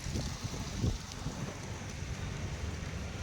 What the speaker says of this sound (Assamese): কিমান ধুমা বতাহ হৈছে